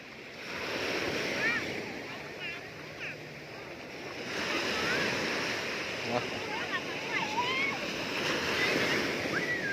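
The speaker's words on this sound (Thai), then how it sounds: "คลื่นแรง" Strong sea waves roll and crash at Cha-am beach, a steady surf roar with wind buffeting the microphone and faint voices in the background.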